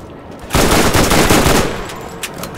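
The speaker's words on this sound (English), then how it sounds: "Right, we're shooting through a tree." Rapid automatic gunfire in Borderlands Remastered, a loud close burst erupting after a brief quiet start and rattling for over a second before tapering into a few scattered shots.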